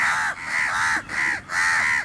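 A flock of crows flies overhead near a campground, giving loud repeated caws in a steady rhythm of four calls, close and clear with no talk.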